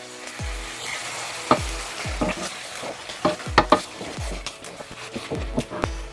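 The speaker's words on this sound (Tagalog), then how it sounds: "Tapos halu-haluin nyo lang." Beef for mechado sizzles in a pan while it is stirred, the scrape of the utensil coming in irregular strokes over a soft, steady frying hiss, close by and moderately quiet.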